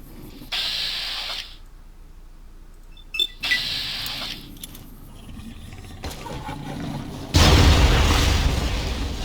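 Grenade launcher blasts in Fallout: New Vegas, a few booming explosions with hissing bursts spaced apart, the last one loud and rumbling, with no talking over them.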